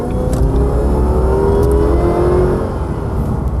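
A Jaguar car accelerates hard with a loud, close engine roar that holds steady and slightly eases toward the end, with no voices.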